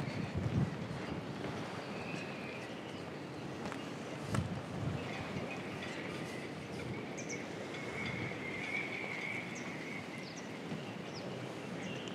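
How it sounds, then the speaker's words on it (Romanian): Wind at about 35 km/h rushes steadily outdoors at a beach and bay in Balchik, with a thin, faint whistle rising and fading over the constant blowing noise. "Se aude cum șuieră vânt."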